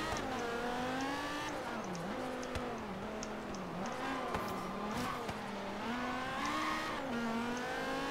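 Dodge Viper V10 in Forza Horizon 3 revs and shifts steadily, its engine tone rising and falling through gears as a continuous loud drone with no talk.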